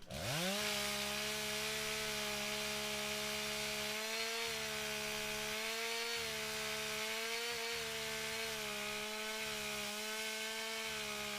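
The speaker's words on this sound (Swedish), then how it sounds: "Sen rensar jag bort lite buskar och så är det dags för fällskäret." A chainsaw revs up and runs at a loud, steady high pitch, cutting into a standing tree for the felling cut, its engine note dipping slightly and wavering as the chain bites through the wood.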